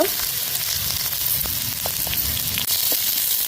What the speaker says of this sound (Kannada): ನೀರುಳ್ಳಿ ಅಂತ ಫ್ರೈ ಆವಡು